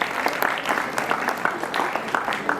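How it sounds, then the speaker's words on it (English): A school audience claps for participants at the end of a round of an inter-house science quiz, a brisk, fairly close patter of many hands with a voice briefly audible underneath. "Can we have a round of applause for all the participants for this round?"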